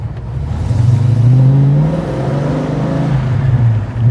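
A car newly converted to FiTech fuel injection pulls away from a stop, its engine note rising smoothly and loudly up through the revs from inside the cabin, with no talking.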